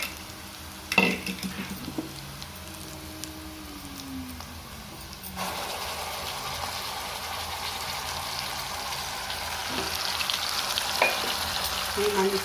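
A ground paste of onion, garlic, coriander and mint hits hot oil with bitter gourd, first a clatter, then a loud, steady sizzle that swells and keeps frying to the end, with no voices.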